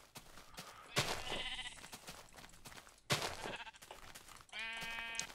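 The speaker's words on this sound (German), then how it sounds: "Böses Schaf." A Minecraft sheep bleats in sharp, quavering bursts that recur among intermittent clicks and thuds in a quiet game scene.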